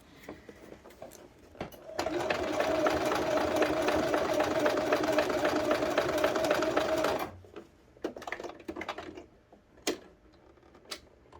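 A sewing machine stitches a trouser seam, overlapping stitches at the crotch seam and running up toward the center back: a loud, steady mechanical whir for about five seconds, then quiet handling noises and light clicks.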